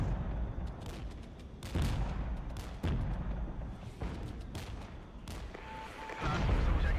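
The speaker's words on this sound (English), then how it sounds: "See if I can get the mortars." Mortar fire in the war video game Regiments: Winds of Change, a series of heavy booms and blasts rolling one after another with rumbling tails, loud and dense with no talk.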